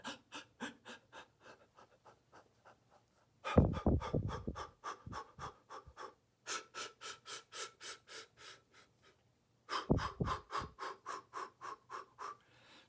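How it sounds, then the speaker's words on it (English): A person takes rapid, gulping breaths in and then blows out a series of short puffing exhales as a hiccup remedy, the rhythmic panting close and fairly quiet, with a few louder, rougher bursts. "So you're gonna gulp for a count of 10 and then exhale for a count of 10."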